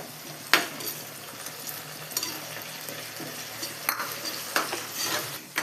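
Tamarind dropped into a pan of fish curry and stirred, with a steady sizzle of frying under scattered scraping and clinking of a utensil against the pan.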